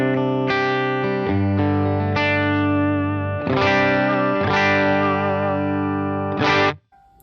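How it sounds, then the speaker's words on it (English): Clean electric guitar played through a Cali 76 compressor pedal on a pedalboard: sustained, even chords and notes with smooth, long decays, loud and close, ending abruptly. "the next pedal is the Cali 76, this is the compressor. So this is my clean with the compressor."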